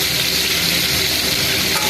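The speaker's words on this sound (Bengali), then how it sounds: "এইদিকে আমি গরম তেলে আলু দিয়ে আমি ভেজে নিচ্ছি লাল লাল করে।" Potato pieces fry in hot oil with a close, continuous crackling sizzle that holds steady and loud throughout.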